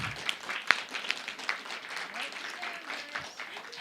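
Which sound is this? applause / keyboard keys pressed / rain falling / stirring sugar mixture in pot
applause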